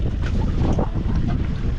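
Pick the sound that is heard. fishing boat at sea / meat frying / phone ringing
fishing boat at sea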